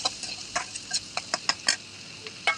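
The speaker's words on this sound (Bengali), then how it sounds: "এবার দিয়ে দিলাম লবণ আর একটুখানি হলুদ, তারপর একটুখানি নাড়াচাড়া করে" Sweet gourd slices being stirred in a pan with salt and turmeric, a spoon scraping and tapping the metal in a series of short, close, irregular strokes over a faint sizzle.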